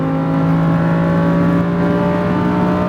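A Lamborghini Huracan out on the SpeedVegas track, its engine a loud, close, steady roar with strong harmonic drone that holds level for the whole stretch, with no voices over it.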